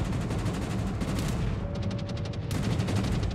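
Warship guns fire during a World of Warships battle in the Dynamo / Dunkirk operation, a fast, steady rattle of rapid shots running nonstop under a constant rumble, loud and close, with no voices.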